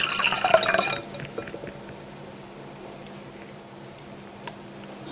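Water is poured into a container of fresh water: a brief splashing, gurgling burst at the start, then quiet with a few faint drips.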